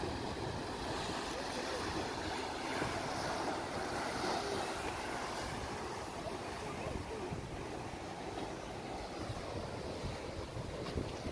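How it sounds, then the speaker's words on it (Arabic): Sea waves break on a beach as a steady, loud wash of surf, mixed with wind buffeting the microphone. The roar holds unbroken for the whole stretch. "اجواء البحر البنات البحر، سمعوا الموج."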